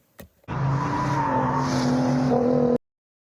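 A V8 car engine roars loud and close after a brief click, holding a steady rumbling tone with a rising pitch for about two seconds before cutting off abruptly into silence.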